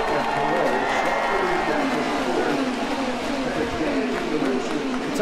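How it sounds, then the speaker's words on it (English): A large grandstand crowd roars at the 2022 Indianapolis 500 at Indianapolis Motor Speedway, a dense, steady wash of cheering that holds at full strength throughout while a commentator talks over it. "Listen to the crowd."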